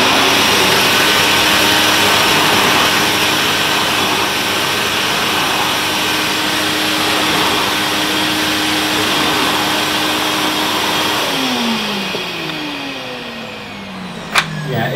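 A Hoover Vogue SC036 1100 Autoflex cylinder vacuum cleaner runs with a loud, steady whooshing whine, then its motor winds down near the end, ending in a sharp click.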